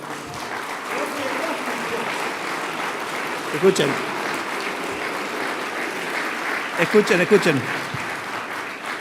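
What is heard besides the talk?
audience applause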